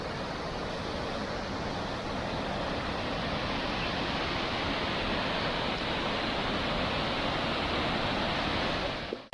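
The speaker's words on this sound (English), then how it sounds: "This is a beautiful waterfall." A waterfall roughly 100 feet tall in Cameron Highlands, Malaysia, roars as a dense, steady rush of falling water, loud and unbroken throughout with no voices.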